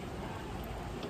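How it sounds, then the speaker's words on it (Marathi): Sudden night rain pours in a steady, even hiss heard through a window at home on an Akshaya Tritiya night, faint and continuous with no voices. "आणि आला पाऊस."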